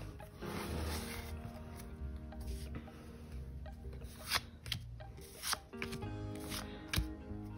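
A Pokémon card slides into a plastic sleeve, giving faint close rubbing, crinkling and scraping with a few soft clicks, quiet and alone.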